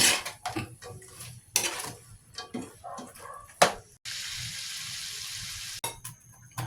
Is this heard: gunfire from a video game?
no